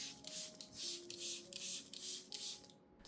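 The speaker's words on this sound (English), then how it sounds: "I'll spray the solution evenly from top to bottom, across the entire leaf surface." Fertilizer solution sprayed onto orchid leaves in repeated short hissing bursts, about five close sprays in a steady rhythm with brief pauses between, alone with no talk.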